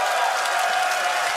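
A stadium crowd cheers and applauds at the Dota 2 TI12 playoffs after a Virtus Pro victory, a brief, dense, even wash of noise with no single voice standing out.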